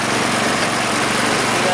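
A small engine drives the jack shaft of a big-chair transmission, a steady loud mechanical hum with an even idling rumble throughout, no pauses.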